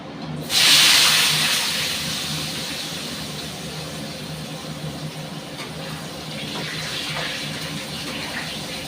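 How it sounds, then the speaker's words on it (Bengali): Small whole washed potatoes dropped into hot oil in a wok, with a sharp burst of sizzling that swells loudly at first and then settles into a steady, even frying hiss. "কিছু ছোট আলু গোটা গোটা করেই রেখেছি, ধুয়ে নিয়েছি ভালো করে পরিষ্কার করে। আলুটা আমি ভেজে নেবো আগে।"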